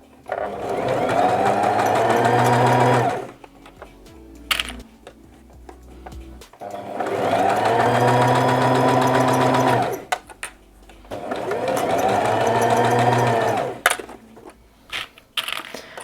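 Three bursts of a sewing machine stitching a side seam on pyjamas, each a few seconds of fast, steady needle hum close by, with quiet pauses and small handling clicks between runs.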